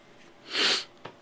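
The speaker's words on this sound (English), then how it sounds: "Sneezing." A single sharp sneeze, close and fairly loud, with a short intake before it and a quick sniff right after.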